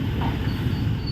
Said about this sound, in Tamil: ட்ரெயின் திருநெல்வேலியிலேருந்து கிளம்பிட்டுங்க